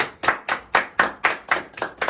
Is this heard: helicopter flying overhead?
no